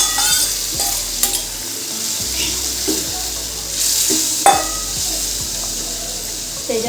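Spinach bhaji after tempering, sizzling steadily in a pan while a spoon stirs and scrapes it with repeated close knocks and clatters over the frying hiss.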